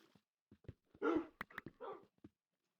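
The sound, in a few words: dogs in the video game Minecraft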